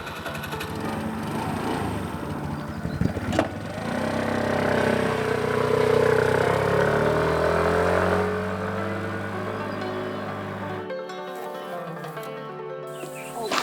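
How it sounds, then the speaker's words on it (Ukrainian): A scooter engine runs at the foot of Klymova hill in Prykarpattia, a buzzing motor whose pitch rises and swells before the engine cuts off abruptly near the end, leaving near-silence. "Я паркую свій скутер."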